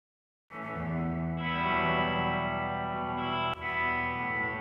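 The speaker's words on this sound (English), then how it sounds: "it will pass audio through the reverb" A sustained chord of processed audio starts abruptly and rings on with a reverb effect in an Audiofab Easy Spin simulator, smooth and layered with a brief dip near the end, no voices.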